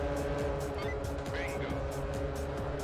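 Engine roar of a De Tomaso Pantera race car in the Xbox racing game R: Racing Evolution, a loud steady drone with whooshes of passing cars and a brief tire squeal, while a voice talks over it.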